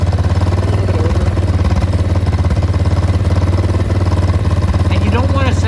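A warmed-up motorcycle engine idles at a steady, fairly fast pulse close to the microphone, its even chugging running throughout with a brief voice near the end.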